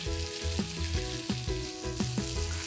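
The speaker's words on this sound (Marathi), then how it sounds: "लसूण खूप लालसर करायचा नाही आहे, पण त्याचा एक फ्लेवर आपल्यापर्यंत येईल अशा पद्धतीने तो आपल्याला मस्तपैकी तेलावरती परतून घ्यायचा आहे." About two spoonfuls of chopped garlic fry in hot oil, giving a close, steady sizzle with faint rhythmic tonal pulses running underneath.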